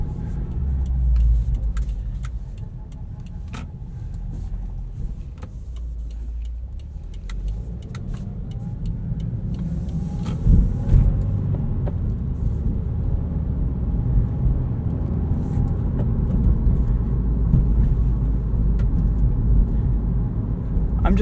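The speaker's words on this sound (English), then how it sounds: "I'm just glad that this WRX still makes all the right noises." A 2020 Subaru WRX Limited with a manual transmission drives at night, heard from inside as a steady low engine and road rumble with faint shifts in pitch and occasional clicks. A person talks quietly over it.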